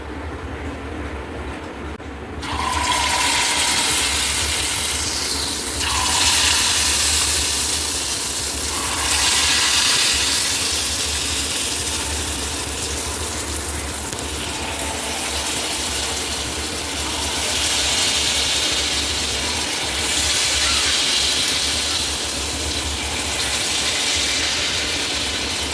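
Ragi batter drops into hot oil and fries with a loud, steady sizzle. The crackling hiss begins abruptly and stays dense and continuous.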